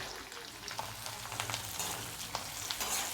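Mint leaves frying in hot oil for chivda, a dense, continuous crackling sizzle up close with occasional stirring clicks, no talking.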